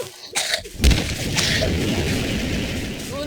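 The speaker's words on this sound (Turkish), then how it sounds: "şu anda dünyanın en büyük patlamasını yaşıyoruz" A huge in-game explosion in Garry's Mod bursts out with a sharp low boom, then a sustained roaring rumble of debris and fire that fills the rest of the moment, loud and close.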